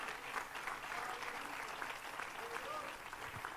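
Church congregation clapping hands together in steady, dense applause during a worship service, a continuous wash of claps filling the room with voices mixed faintly underneath.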